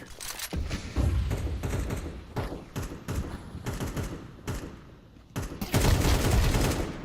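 Gunfire in Counter-Strike, bursts of rapid shots and thuds in clusters with short gaps, loud and close, ending in a heavy burst.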